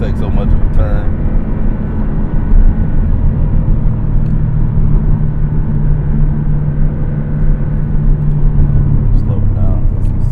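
Porsche 718 Cayman base model carving through curves on a salty, snow-dusted road, its engine a steady loud rumble with a sustained low drone that shifts pitch slightly, road noise continuous throughout, speech faintly present.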